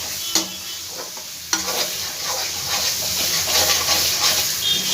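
Soaked red lentils sauté with spices for a lentil-and-soya-chunk curry, giving a steady close sizzle under scraping stirs, with two sharp clicks of the utensil early on.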